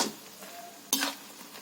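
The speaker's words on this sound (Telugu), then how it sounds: "పచ్చిమిరపకాయల్ని ఇలా వేయించుకోవాలి." Green chillies frying in a pan, a soft steady sizzle with a sharp stir or scrape of the spatula partway through, close and with no voices.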